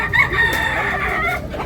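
A young gamecock, a bullstag, crowing close and loud: one hoarse, drawn-out crow with a wavering pitch that fades at the end.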